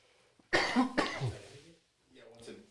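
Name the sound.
coughing into microphone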